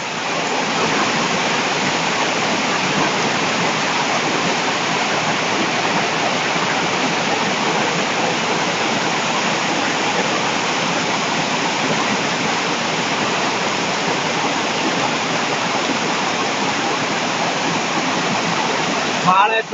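Heavy hail pours down in Madrid as a dense, continuous roar of pelting ice that stays loud and even throughout, without pause.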